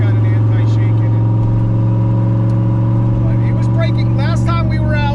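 Turbocharged Foxbody fitted with a GT40 engine, pulling toward 6,000 rpm, heard from inside the car as a loud, steady, heavily harmonic engine drone, with a voice briefly over it near the end.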